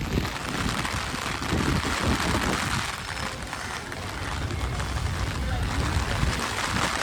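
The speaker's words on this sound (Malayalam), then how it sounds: "മഴയാണ് ഗൈസ്" Steady rain pours down outside the Vadakkumnathan temple, a dense, even hiss that continues without pause.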